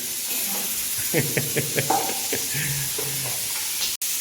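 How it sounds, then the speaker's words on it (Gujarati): Ghee heating in a pan gives a steady, fairly loud hiss and sizzle throughout, while a person talks over it in the middle of the clip. "ઘી ગરમ થાય છે મિત્રો"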